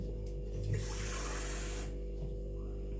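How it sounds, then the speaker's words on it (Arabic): Water is poured into a potato batter mixture, giving a steady, close splashing pour that runs for over a second before cutting off, with a low background hum underneath. "خصنا نزيدو الماء"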